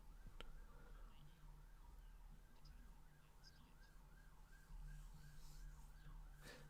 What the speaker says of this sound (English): Oh, sorry if you guys hear a ambulance in the background.